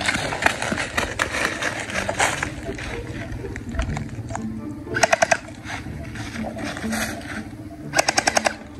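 Gunshots in a shooting video game come as rapid bursts of several cracks, loud and close, repeated a few times over game noise and a talking voice.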